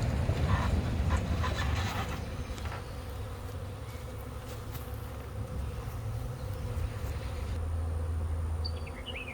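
A large swarm of honey bees gathered on a bucket during a high swarm catch gives off a dense, steady buzzing that stays loud and close throughout, with no voices.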